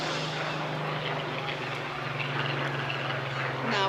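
A Supermarine Spitfire PR Mark 19, a photo-reconnaissance variant, flies over the seafront at an airshow, its engine a steady loud drone that swells slightly toward the end.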